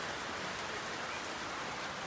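Rain falls outdoors as a faint, even hiss of drops, steady and distant, with no voices.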